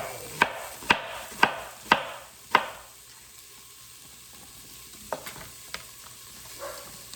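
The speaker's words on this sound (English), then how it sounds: "Give this a stir again." A spoon stirs Thai chicken coconut soup in a pot in a quick cooker, giving five sharp knocks against the side in a steady rhythm, then a few softer scrapes, close and alone.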